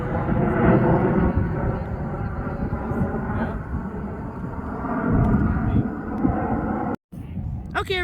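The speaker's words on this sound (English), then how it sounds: "here we have a CRJ" A CRJ jet flies along the approach path to runway 05, a loud continuous broad roar and rumble that swells and eases slightly, close overhead, ending with a brief gap.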